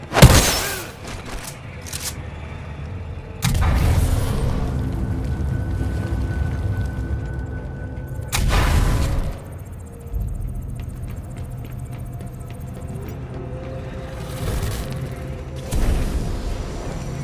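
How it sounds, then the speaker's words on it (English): A frag grenade in the video game Titanfall 2 goes off with several deep booming blasts separated by quieter stretches of low rumble and faint electronic hum. "Throwing frag."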